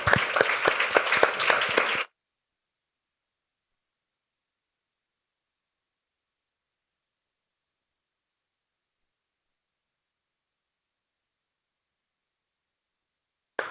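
An audience applauds an ambassador at a conference, a dense burst of many hands clapping for about two seconds, then cutting to silence.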